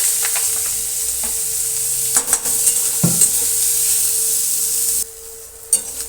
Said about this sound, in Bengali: আমি সেই কুচিয়ে রাখা আদা রসুন পেঁয়াজ এগুলো আমি একটু তেলের পরে হালকা লাল লাল করে নেবো